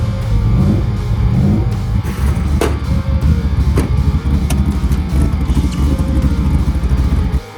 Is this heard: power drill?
no